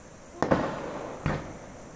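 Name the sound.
large Diwali firecrackers exploding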